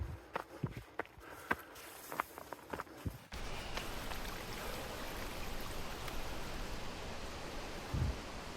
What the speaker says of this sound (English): After passing this small creek by the trail